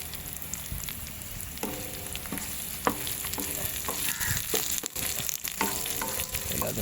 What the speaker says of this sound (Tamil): எல்லாத்தையும் சேர்த்து வதக்கிடுவோம்.